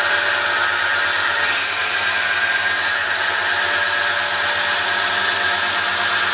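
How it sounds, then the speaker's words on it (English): A drill bit boring a 38 mm hole right through a wooden salt or pepper mill blank spinning on a lathe gives a continuous, loud grinding rasp with a steady motor hum beneath, unbroken throughout. "I will proceed to drill a 38 millimeter right through"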